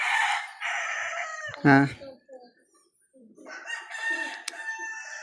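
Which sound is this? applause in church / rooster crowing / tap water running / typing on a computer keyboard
rooster crowing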